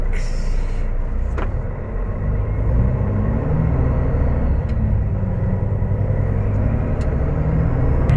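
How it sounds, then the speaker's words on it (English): A Caterpillar 336E excavator engine runs steadily with a deep, continuous low rumble throughout, close and loud, with a few faint clicks and knocks over the top and no talking. "time to go for a truck ride with the 336"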